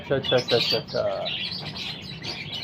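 Parrots in a breeding cage give a quick series of chirps and squawks, close and fairly loud, then softer scattered calls.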